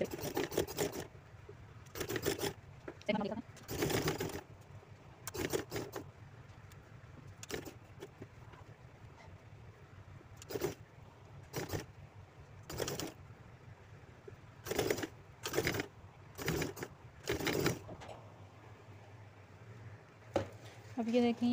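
Electric sewing machine stitching gum lace onto a garment neckline, running in repeated short bursts of whirring separated by pauses, fairly close and clear.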